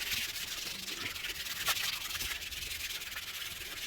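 A car wheel rim being sanded by hand makes a continuous close, hissing rub with steady back-and-forth strokes and no talk.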